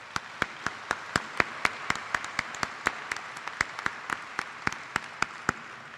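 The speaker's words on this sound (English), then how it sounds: "I think that deserves a round of applause" Sparse applause at a medical school graduation ceremony, with crisp, distinct claps ringing out in a fairly steady rhythm over a quiet room rather than a dense roar.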